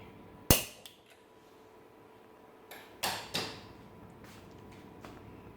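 A gas stove igniter clicks sharply to light the burner while a Kerala-style coconut mango fish curry is being cooked; a few distinct, near clicks come separated by pauses against a quiet kitchen background.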